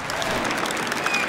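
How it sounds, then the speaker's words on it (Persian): Audience applause during a Persian game show, a steady, dense burst of many hands clapping at even loudness throughout, with no pause. "پس خوب صحیح یک تشویق داشته باشیم"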